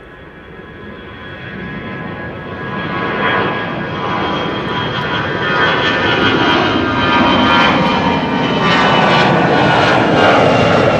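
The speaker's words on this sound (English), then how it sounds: "over here on the runway coming our way, but not yet visible, should be Shamrock Flight 603" An Aer Lingus Shamrock airliner on its departure roll from runway 24 (Kaagbaan) at Amsterdam Schiphol, bound for Dublin. Its loud jet engine roar grows steadily nearer over eleven seconds, with no voices.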